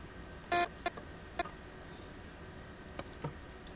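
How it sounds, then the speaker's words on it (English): In a train simulator game, a PZB train safety system gives short electronic beeps as switches are pressed, several sharp faint tones spaced irregularly over quiet background. "When PZB is enabled, you will now correctly hear the beep whenever you press any of the switches."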